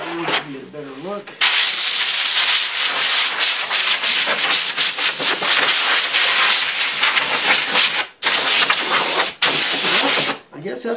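Sandpaper rubs by hand along the grain of a carved redwood sign, a loud steady scratchy hiss of long continuous strokes with a few brief pauses, and a voice talks briefly at the very start.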